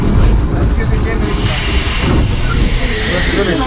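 A Darjeeling toy train standing at Batasia Loop gives off a loud, continuous steam hiss close by, with people talking over it and station bustle in the background.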